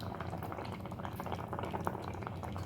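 Ayre fish bubbles in spicy gravy inside a covered pot, a continuous soft simmering with small popping bubbles, steady and quiet throughout.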